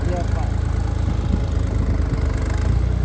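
A New Holland 3630 tractor engine runs at a steady, low rumbling idle throughout, with voices faintly in the background.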